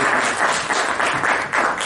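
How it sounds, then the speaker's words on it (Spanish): Loud applause fills a room at a financial-statements training course as an attendee is introduced, dense continuous clapping from an audience with slight swells, no voices heard over it. "Si es que fuerte el aplauso."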